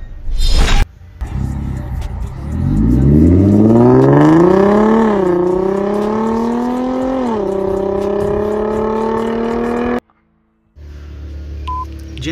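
Hyundai Genesis Coupe engine accelerating hard, a loud rising roar climbing through the gears with brief dips at shifts, held steady for several seconds before cutting off abruptly.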